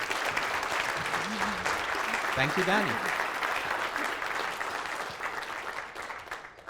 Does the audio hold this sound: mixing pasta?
no